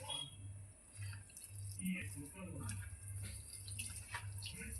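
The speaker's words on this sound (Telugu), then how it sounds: "కొన్ని నీళ్ళు వేయాలి" Water poured into onion bhaji batter seasoned with salt and chili powder, a steady moderate trickle over a constant low hum, with no talking.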